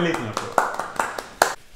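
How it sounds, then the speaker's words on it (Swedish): A few people give a small round of applause at a Christmas beer tasting, several sharp separate claps spaced out over a second or so, close by, following a brief bit of speech. "En liten applåd"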